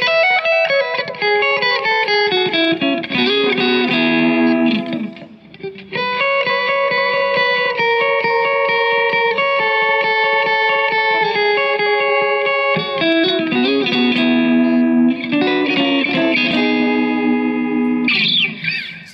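Electric guitar played through a Keeley Magnetic Echo delay pedal, sustained chords and notes with audible echo repeats filling the clip continuously, loud and close with no talking.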